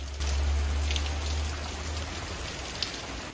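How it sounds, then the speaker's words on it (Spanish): Steady rain hissing across a broad band, with a deep low rumble underneath and occasional brighter drip ticks; no voices. "mira, sigue lloviendo, como antes."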